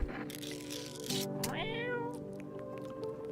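A video-game cat gives one clear, drawn-out meow with a rising then falling pitch, close and distinct over faint background game sounds.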